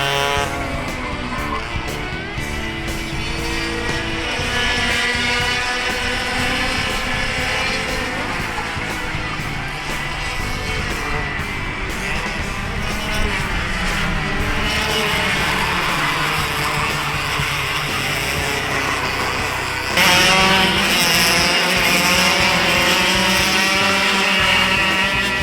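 Several 125cc Easykart racing karts in a BKA Championship race, engines droning steadily and loudly throughout with layered buzzing from many karts, a shift in pitch and intensity near the end as the pack passes.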